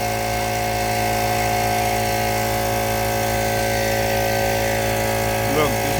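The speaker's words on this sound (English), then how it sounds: "this Harbor Freight air compressor getting the job done" McGraw 10 gallon Harbor Freight air compressor running, a loud, steady motor drone with a continuous mechanical whine and no breaks.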